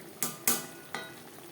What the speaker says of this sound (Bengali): পটলের সাথে নারকেল, কাঁচা লঙ্কা ও টমেটোর পেস্ট বেশ ভালো করে মিক্সড করে দেব।